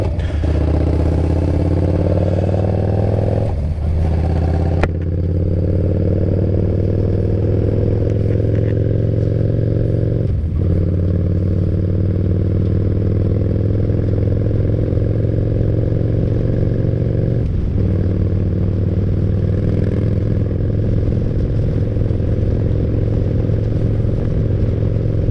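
A motorcycle fitted with a new Vance & Hines Comp Series slip-on exhaust rumbles steadily and loudly at close range, with a deep, continuous engine drone and small shifts in revs throughout.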